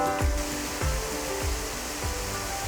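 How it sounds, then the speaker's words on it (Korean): A small waterfall pours steadily in a recreation forest on Seongjusan mountain in Boryeong, making a continuous broadband rush of falling water with no voices. "휴양림 소입에 자리한 작은 폭포에선 시원하게 폭포수가 쏟아집니다."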